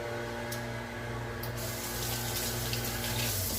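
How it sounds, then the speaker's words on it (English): A kitchen tap runs steadily while hands are washed, a continuous loud hiss of flowing water with a faint hum underneath and two brief splashy bursts early on; nobody speaks. "wash your hands."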